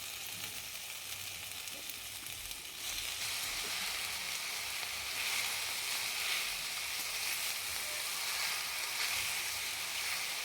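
A steady, loud sizzle of ambadi (sorrel) leaves frying in a wok with turmeric, swelling a little after the first few seconds and holding constant to the end.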